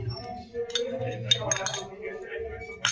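A spoon stirring powdered sugar into cake batter in a bowl, producing light clinks and scrapes against the dish in an irregular rhythm, close up, with someone talking in between.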